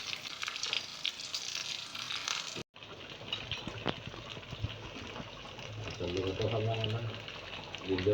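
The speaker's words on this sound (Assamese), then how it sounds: "এতিয়া ধুনীয়াকৈ চিকেনখিনি ফ্ৰাই কৰি আছোঁ" Chicken pieces frying in a pan, a steady crackling sizzle with stirring clatter and occasional sharp pops, heard under a person talking, with a brief cut early on.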